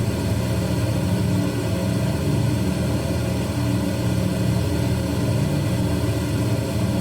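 Steady, dense drone of a Lockheed Electra 10A twin-engine plane in a flight simulator as the throttle is reduced, a loud continuous engine hum with no clear change across the stretch.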